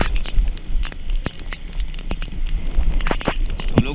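Heavy rain pours onto a street in a dense, steady hiss of patter, with sharp crackling drops and splashes scattered throughout. It is loud and close, with no clear voices.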